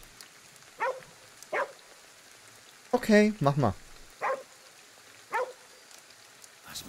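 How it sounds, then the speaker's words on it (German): A dog in the game Ghostwire: Tokyo barks in short, evenly spaced yelps against a steady hiss of rain, with a brief burst of speech partway through. "Ist noch ein Hund."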